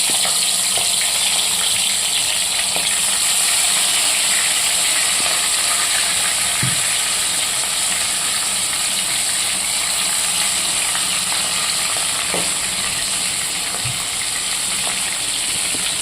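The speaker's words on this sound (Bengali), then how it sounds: "প্রথমে আমি এই যে নুন হলুদ মাখানো কাশ্মীরি লাল লঙ্কার গুঁড়ো দিয়ে মাখানো গলদা চিংড়ি মাছগুলো সুন্দর করে ভেজে নেব।" Giant prawns coated in salt, turmeric and Kashmiri chilli frying in a pan, a dense continuous hiss and sizzle with faint occasional clinks, steady and close throughout.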